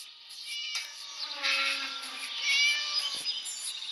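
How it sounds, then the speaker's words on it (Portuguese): A cat meows repeatedly in the Scary Teacher video game, rising and falling calls that follow one another fairly softly, with no talking. "Ela pegou um pobre gatinho e prendeu ele."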